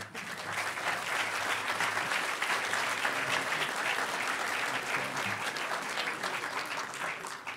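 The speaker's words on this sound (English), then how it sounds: "huge round of applause" Sustained audience applause at the closing ceremony of the Hackers on Planet Earth 9 conference, a full room clapping steadily and evenly for several seconds.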